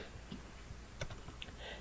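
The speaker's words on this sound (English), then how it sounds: "I'm just going to give this encounter deck a nice couple shuffles." A deck of encounter cards being shuffled a couple of times for a tabletop card game, heard as a quick run of soft, close papery flicks and riffling clicks with no talking.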